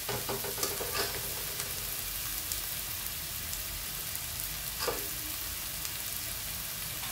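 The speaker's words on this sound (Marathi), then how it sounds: "कांद्याचा आपला आता थोडा पहिल्यापेक्षा कलर बदललेला आहे, तरी अजून आपल्याला परतून घ्यायचं आहे।" Onions sauté in a pan with a continuous, close sizzle and crackle, broken by a few stirring scrapes and spits, with no talking.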